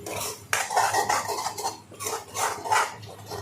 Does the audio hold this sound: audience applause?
no